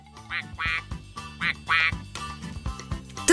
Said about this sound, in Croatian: Bokmet, zašto tvoj mobitel kvače?